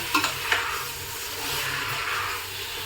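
Potatoes frying in a hot pan give a steady, close sizzling hiss, with a few sharp stirring clicks near the start and no voices.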